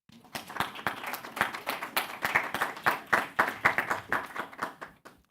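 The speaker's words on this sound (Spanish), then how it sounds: "Un aplauso para los jurados." An audience applauds the judges at a medical residents' competition: brisk, dense clapping from many hands, steady for about five seconds before tapering off sharply at the end.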